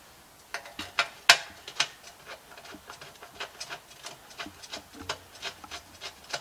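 A ratchet wrench snugs up transmission bolts on a Willys rat rod, giving quick runs of light mechanical clicks and rubbing ticks, close and fairly quiet, with no talk.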